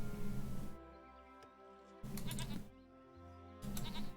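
A goat bleats in the video game Age of Empires 3, three loud wavering bleats spaced apart over a constant low hum.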